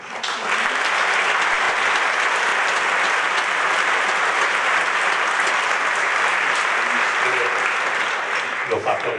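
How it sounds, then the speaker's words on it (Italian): Sustained, dense applause from a concert audience at a string orchestra event, loud and even throughout, with a speaking voice faintly emerging at the close. "Lo dedichiamo al nonno Renato questo applauso"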